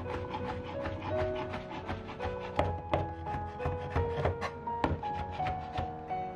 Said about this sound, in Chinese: 然后把煮熟的木耳切得碎一些